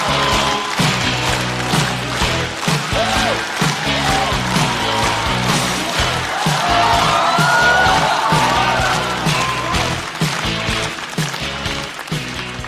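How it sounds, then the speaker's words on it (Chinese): At a stand-up comedy show, a crowd cheers and applauds to welcome a comedian on stage. The noise is loud and sustained over a thumping rhythmic music beat. "掌声欢迎开花俱乐部的主理人小块儿"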